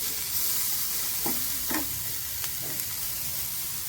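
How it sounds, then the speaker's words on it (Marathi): Salted tomatoes and onions roasting in a hot pan, a steady soft sizzle with a few brief scraping stir strokes, close and moderately loud with no voices. "टोमॅटो आणि कांदा लवकरच भाजून जाईल छान असा टोमॅटो भाजून घेऊ"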